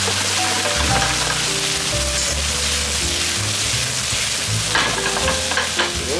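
Chicken and cucumber stir-fried with leek over a high flame, a loud steady sizzle with scraping and stirring from a wok, close up, with no voices.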